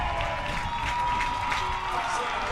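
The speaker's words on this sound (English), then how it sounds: "You can feel the excitement in this crowd" A women's soccer crowd at a Detroit City FC versus Flint City AFC match roars and applauds steadily as players walk onto the field, a dense, continuous wash of cheering and clapping with no break.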